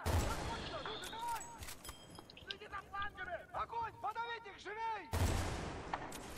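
Gunfire in Battlefield: Bad Company 2, a burst of heavy shots at the start and another near the end, with scattered distant reports and whizzing in between, while people talk over the game.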